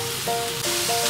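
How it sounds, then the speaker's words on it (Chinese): King oyster mushroom pieces frying over medium-low heat in a pan, a steady close hiss of sizzling oil with soft music playing underneath. "过程中需不时翻炒"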